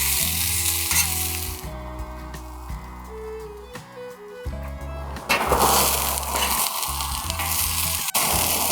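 Green beans sizzle and fry in a hot pan with a steady hiss and occasional stirring, while tonal background music plays underneath.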